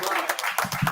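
Audience applause at the 94th annual class convention of the Guiders of the Nations Class Mecca, a brief burst of crowd clapping and noise lasting under a second.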